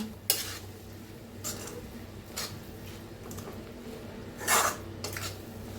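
Drumstick leaf vegetable with peanut powder stirred in a pan: a handful of separate scraping strokes over a quiet, steady background sizzle.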